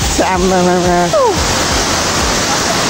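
Purandhara waterfall in Dang roars in a loud, unbroken rush of falling water, with a brief voice at the start over the constant roar.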